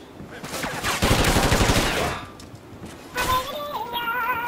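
Rapid automatic gunfire from the video game Call of Duty Ghosts rattles in a dense burst, then fades as further shots and game tones follow, with faint voices talking underneath.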